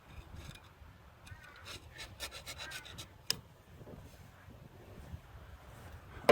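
Outer ring of a harmonic balancer pulley pried and twisted by hand as it separates from its rubber layer, a series of faint rubbing, creaking scrapes with a sharp knock near the end.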